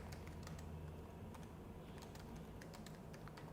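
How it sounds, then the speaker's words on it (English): Speaker notes typed into PowerPoint's notes section on a computer keyboard: a faint, steady run of light key clicks over a low background hum. "and you can start typing here."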